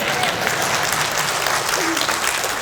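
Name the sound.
applause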